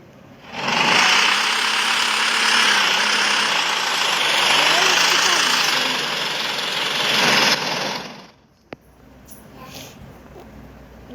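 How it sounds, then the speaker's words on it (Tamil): Tractor engine running close by, a loud rough rumble that holds for several seconds and swells slightly in the middle, then cuts off abruptly, leaving quiet background. "டிராக்டரு நான் உங்களுக்கு அந்த சவுண்டை காட்டுறேன், கேட்டு பாருங்க."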